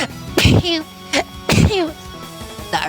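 Two sharp, close sneezes burst out about a second apart, and brief conversational speech follows each one.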